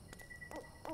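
A person imitating an owl with two or three soft, breathy hoots inside a video game, faint and spaced apart, with no talk.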